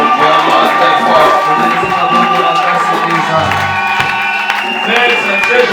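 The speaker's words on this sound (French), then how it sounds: "Nous applaudissons vraiment très fort." Loud crowd at a wedding ceremony applauding and cheering, with whoops and shouting layered over music and voices, sustained and dense throughout.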